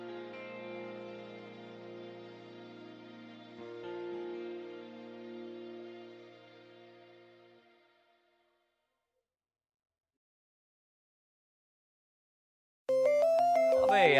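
A mobile phone ringtone plays a sustained electronic melody that fades out, followed by several seconds of silence, then the tune starts ringing again abruptly and louder.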